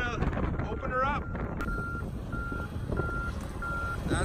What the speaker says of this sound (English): unloading the garbage truck here at the London dump